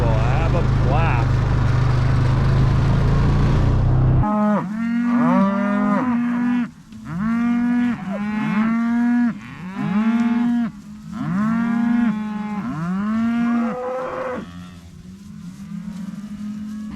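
Several cows moo repeatedly in long, rising calls near silage bales on a farm, close and loud, one after another; an engine drones at the start.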